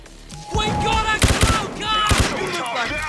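Bursts of automatic gunfire in the Payday 2 Safe House Nightmare heist, two sharp volleys loud and close amid chaotic game noise, with voices shouting over the shooting.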